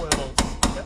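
A steel chisel is hammered to break spot welds on the rusted floor pan of a 1969 Dodge Charger, three sharp, close metallic strikes spaced about a quarter second apart.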